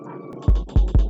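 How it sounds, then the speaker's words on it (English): A punchy, booming kick drum sample for a 103 BPM Afrobeat groove with swing hits three times in a quick, uneven pattern, each a deep thud that decays fast over a faint low hum. "we have this killer tunes kick"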